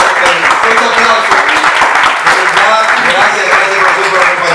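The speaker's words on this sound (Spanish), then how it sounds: "Vamos a dar un fuerte aplauso a nuestro profesor." Loud, dense applause fills a conference room as an audience welcomes a professor giving a neuroscience talk, the clapping sustained throughout with voices mixed in.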